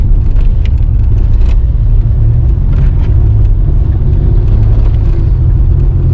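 A 1986 Nissan 300ZX straining while driven in second gear, a loud, continuous low engine rumble heard from inside the car with no talking over it.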